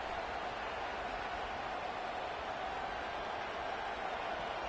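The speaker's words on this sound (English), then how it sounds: "This crowd, full throat, splitting the eardrums and letting them know it's going to be a long day" Steady roar of a big football stadium crowd at an LSU versus Florida game, a dense unbroken wall of noise holding loud for several seconds with no gaps.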